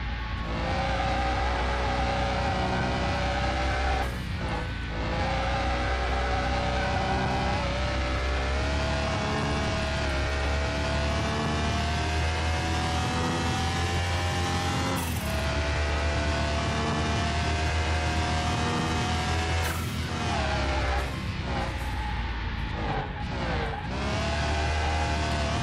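Nissan 350Z lapping a track in Car Mechanic Simulator 2021, its engine droning steadily and loudly throughout, with a few abrupt shift or lift breaks as it runs continuously.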